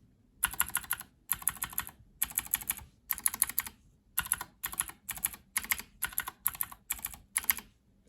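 Steady bursts of typing on a mechanical keyboard fitted with keycaps, using Kailh Speed Bronze or Outemu Phoenix clicky switches; crisp, close clacking comes in rapid runs broken by short pauses, with no voices.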